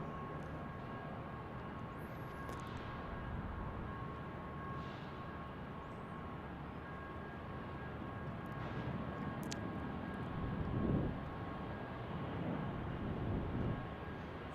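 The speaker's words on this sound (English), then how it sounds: "Embraer E175 headed north to Alaska" Embraer E175 jet at Salt Lake City Airport, a faint, distant steady roar of jet engines with a broad rushing hum that swells slightly toward the end.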